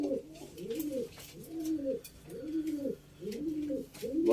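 Pigeons coo in soft, rolling repeated phrases close by, several birds calling almost continuously with brief pauses.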